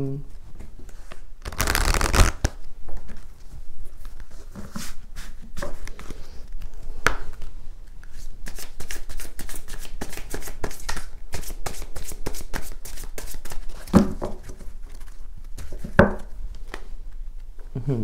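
Oracle cards being shuffled for a tarot-style love reading, a steady run of crisp riffling and flicking with a louder burst near the start, under quiet talk.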